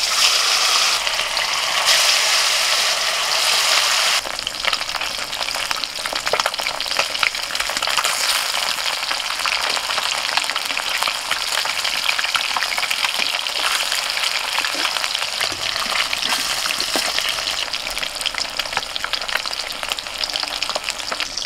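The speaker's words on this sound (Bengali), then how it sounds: "তেল হয়ে গেছে, মাছগুলো ভেজে নিচ্ছি।" Fish fries in hot oil in a wok with a loud, dense, continuous sizzle and fine crackle. It grows brighter after the first few seconds and stays strong to the end.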